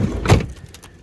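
Frozen car door cracks free of its ice seal and swings open: one sharp thump and crackle, close and loud, then a quieter rattle fading out.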